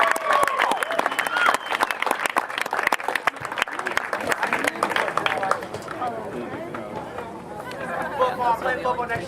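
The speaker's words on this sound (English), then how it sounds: "we'd like to have another nice round of applause" Crowd at a school senior event gives a round of applause for three teachers, dense sustained clapping mixed with cheers and chatter that eases slightly toward the end.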